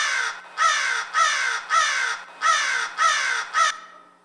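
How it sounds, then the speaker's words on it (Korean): A crow caws loudly and close, seven harsh calls in a steady, evenly spaced series, each one grating and drawn out, with nothing else around them. "까마귀가 계속해서 강하게 소리를 지르듯이"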